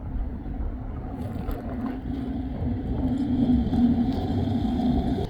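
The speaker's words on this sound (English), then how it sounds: "there's been a lot of cars coming by right here." Cars pass by on a road near the Klamath River, a low steady rumble of traffic that swells louder through the second half.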